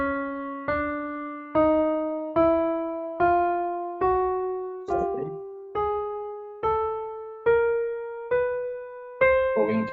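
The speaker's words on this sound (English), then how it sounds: "So playing it nice and slow, the chromatic scale would sound like this." A piano plays a slow chromatic scale rising from middle C, about a dozen single notes struck one after another, each ringing and decaying before the next, clear and close with no voices.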